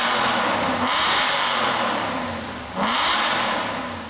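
A 2007 Aston Martin V8 Vantage with a dual exhaust revving twice, each blip a loud, rising V8 roar that falls back to a lower burble, close by and with no talk over it.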